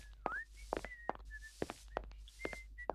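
A whistle solo from the whistle man in the video game Syberia, short gliding whistled notes over sharp clicking taps and a low steady hum, with no talking.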